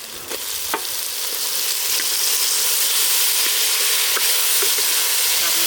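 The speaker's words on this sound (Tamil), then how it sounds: "இது கூட தக்காளி சேர்த்து வதக்கிக்கலாம்" Tomatoes sautéed in oil, village style, for a curry: a loud, dense sizzling hiss builds and holds steady close by, broken by a few faint scrapes of stirring, with no talk.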